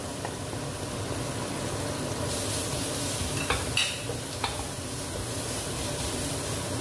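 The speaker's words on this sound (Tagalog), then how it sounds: "lagay na natin yung garlic." Garlic sizzling in melted butter in a pan while tuyo pasta is prepared: a steady, close crackling hiss with a few faint clinks of a utensil against the pan.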